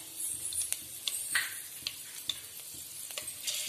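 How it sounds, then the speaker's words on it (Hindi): Mustard seeds and green chillies sizzle and crackle steadily in hot oil, with scattered sharp pops over a continuous hiss, close and fairly loud, no talking. "बस हमारा ऑयल गर्म हो चुका है, इसमें हम सबसे पहले राई ऐड करेंगे और फिर ये मिर्च"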